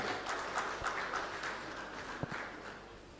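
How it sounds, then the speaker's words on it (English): Applause from a workshop audience honouring a sweet potato program coordinator, a steady wash of many hands at moderate distance, fairly faint and even throughout. "let's clap for the coordinator,"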